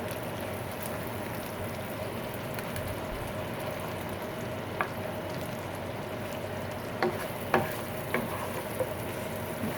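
Cashew nuts and spices roast in a pan for yellow rice, a steady soft sizzle with a few sharp clicks of stirring toward the end, no voices.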